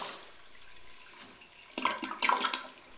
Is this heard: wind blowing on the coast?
no